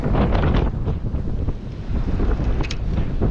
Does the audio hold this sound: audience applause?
no